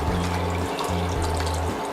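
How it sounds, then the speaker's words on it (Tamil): Water is poured from a cup into a pot of crab leg soup, a short close liquid pour in two bursts with a low bubbling tone, no talking. "நான் இன்னும் ஒரு கப் அளவு தண்ணி ஊற்றிக்கிறேன்."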